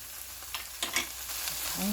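Bracken fern greens with clams fry in a pan over gentle, slightly-below-medium heat, making a soft crackling sizzle with a few brief stirring clinks and scrapes up close.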